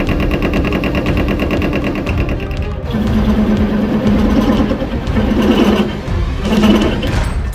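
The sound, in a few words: lathe making horrendous noises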